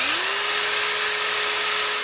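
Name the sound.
drilling a hole in a pocket bike intake tube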